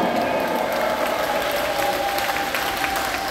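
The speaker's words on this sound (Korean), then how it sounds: "박수." Dense, sustained applause from a large crowd at an outdoor patriotic rally forum, a steady wash of clapping at even loudness throughout, with some cheering underneath.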